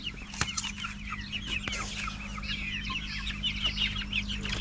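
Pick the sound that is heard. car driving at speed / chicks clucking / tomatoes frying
chicks clucking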